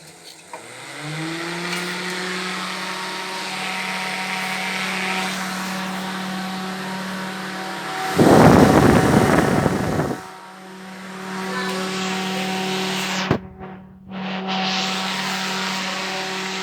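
A steady mains-powered smoke extractor fan hums with a constant motor drone, briefly interrupted by a louder burst of noise midway.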